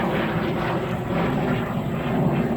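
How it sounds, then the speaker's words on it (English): Jet aircraft passing overhead, a broad, steady engine roar that swells slightly, moderately loud and distant, with no talk over it. "There comes a jet."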